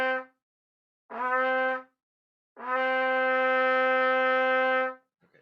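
Trumpet played with pure air attacks, each note started by blowing into the mouthpiece with no tonguing: a short faint blip, a brief bright tone, then a longer sustained brassy note, with soft onsets and silences between.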